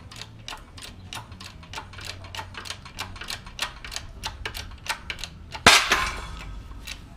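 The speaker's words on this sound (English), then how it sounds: "now I'm just kind of pressing the bearing out all at one shot" A Toyota Camry wheel bearing being forced out in a press gives a steady series of sharp mechanical ticks and clicks, then one loud crack as it lets go, followed by a short rattling settle.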